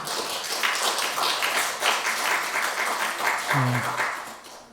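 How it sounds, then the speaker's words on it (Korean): A church congregation claps to welcome a newly registered member, a steady patter of applause that fills the room for several seconds, with a brief voice near the end. "박수 한번 주시죠"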